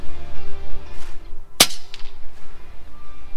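An FX Panthera air rifle fires a single sharp, loud crack with an H&N Barracuda pellet, the snap standing out against a steady outdoor background hum.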